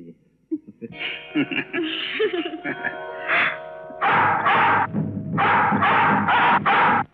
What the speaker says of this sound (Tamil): சத்தம் கேக்குதுல்ல? யாரோ வேட்டை நாயை விட்டுருக்காங்க. அது மான துரத்திட்டு போகுது.